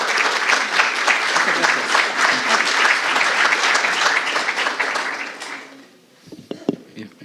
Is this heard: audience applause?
yes